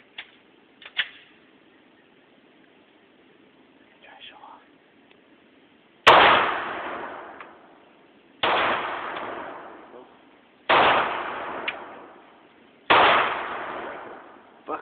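Gunshots at an outdoor shooting range, four loud evenly spaced cracks about two seconds apart, each with a ringing decay, after quieter clicks and handling noises.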